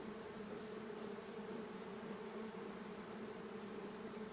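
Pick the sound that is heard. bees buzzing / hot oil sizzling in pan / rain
bees buzzing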